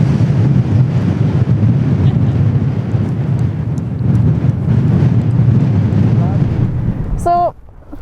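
Strong wind buffets the microphone beside a Scottish loch on a wet day, a loud, continuous rumbling roar that ends with a brief high chirp before dropping away.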